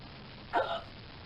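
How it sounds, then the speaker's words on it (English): A single cartoon hiccup pops out once, short and bright with a quick upward squeak, standing alone over a faint background hum. "Son, was that a hiccup I heard?"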